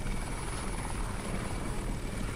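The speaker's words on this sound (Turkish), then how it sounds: "Helikopter yollamayın. Nefret ediyorum helikopterden." A military helicopter in the video game Crysis, heard as a loud, steady rotor thrum and engine roar that fills the whole span without pause, close and alone.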